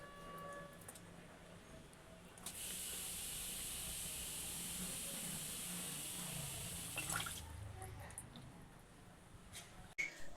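Koi fish being washed under running water give a faint, steady hiss of flowing water for several seconds, with a low background murmur before and after.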